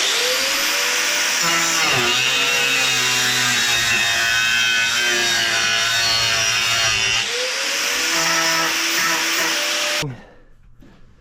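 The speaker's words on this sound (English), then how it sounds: "I'm cutting my vertical lifter off like a 1/4 inch" A power tool cuts a quarter inch off a metal vertical lifter on a custom snowmobile ski rack, whining loudly and steadily for about ten seconds, with pitch dips as it bites, before stopping abruptly.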